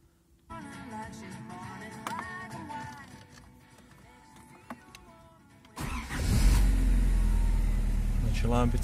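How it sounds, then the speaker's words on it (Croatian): A Škoda Felicia 1.6 car just topped up with oil goes through a starter whir, then the engine catches and settles into a loud, steady idle close by. Someone talks beforehand while the car is still quiet. "Evo sad idemo upaliti auto."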